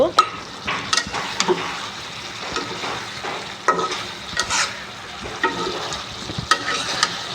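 Steady stirring of a frying curry base of ginger, cumin, garlic and onion paste for a rohu fish dish: a spatula scrapes the pan in uneven strokes over a continuous close sizzle, with sharper clanks now and then.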